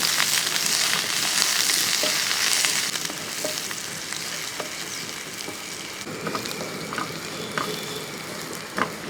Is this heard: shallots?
yes